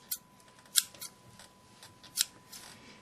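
Barber's scissors snip close and crisp in a quiet room, a few sharp metallic cuts spaced irregularly over a few seconds with soft handling sounds between them.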